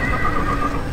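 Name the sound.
horse neighing in the video game Age of the Ring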